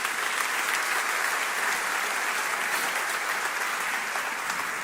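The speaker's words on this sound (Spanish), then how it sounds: "dele otro fuerte aplauso al Señor" A church congregation applauds in a steady, dense, loud wash of clapping that runs unbroken from start to finish, with no talking over it.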